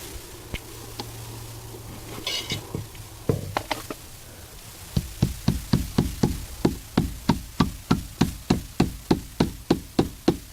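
A roofing nail is hammered into vinyl soffit on a gable end, first a few scattered taps, then a steady run of about eighteen sharp, evenly spaced hammer blows, close and loud with no talking.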